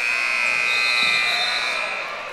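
A steady electronic buzzer sounds over crowd noise at a high school basketball game between Coeur d'Alene and Lewiston, ending the first half. The tone holds continuously and loud for about two seconds.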